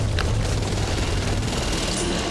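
Gunfire in the co-op zombie shooter Back 4 Blood, a dense, loud burst of rapid shots that runs continuously for the whole moment with no pauses.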